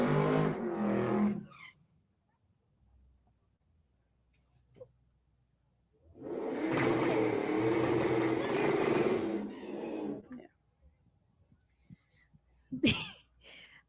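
A number 27 race truck roars through a drag racing qualifying pass, two loud bursts of engine noise with a long, dense roar in the middle and quiet gaps between, ending with a sharp closing blast.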